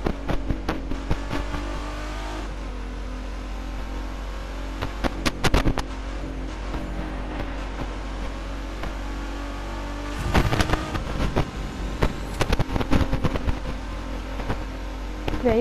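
A Nissan GT-R engine driving slowly along a route, with a steady low drone, rising and falling revs and a few sharp bursts and clicks. No one talks over it.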